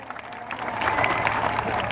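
A rally crowd at an OBC community gathering breaks into applause, starting as scattered claps and swelling into a steady, dense ovation.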